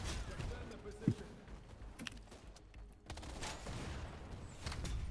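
Gunfire in the online shooter Wild Assault: scattered distant shots and bursts from several directions, faint and muffled, running beneath radio-style voice lines throughout.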